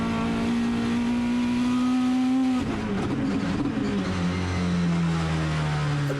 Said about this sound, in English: I mean, the car's absolutely an amazing vehicle